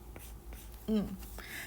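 A pen scratches softly on paper while a fifth-grade math exercise is worked out, quiet brief strokes with a low voice speaking briefly over them.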